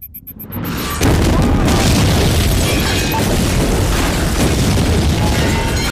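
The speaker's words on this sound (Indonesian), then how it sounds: "Tiba-tiba, bom meledak dan menghancurkan semua mobil anak buah Sen." A heavy bomb explosion destroys several cars, booming and then rumbling on as a sustained roar of debris and fire, loud and close.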